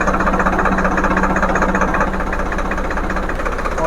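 A tractor diesel engine idling steadily at about 650 rpm, a loud, even, close-up chugging rumble with slight knocking texture and no speech.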